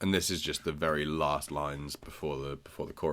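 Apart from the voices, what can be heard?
No distinct noise like a dog, phone or traffic.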